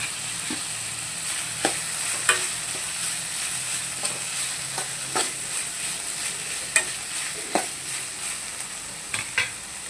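Curry leaves sizzle steadily in oil while a spoon scrapes and clinks against the pan every second or so as the leaves are stirred and fried.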